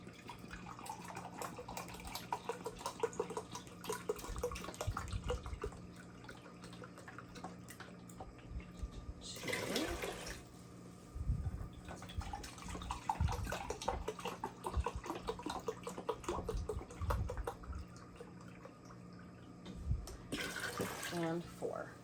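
Vinegar is poured into a container for canning garlic dill pickles, heard as two short splashing gurgles among quieter handling and drips while a person talks.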